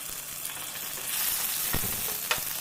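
Curry leaves, ginger pieces and green chilli frying in a pan, a steady close sizzle with a few sharper crackles and spits from the hot oil.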